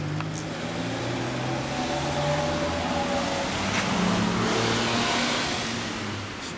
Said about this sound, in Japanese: エンジンかかった。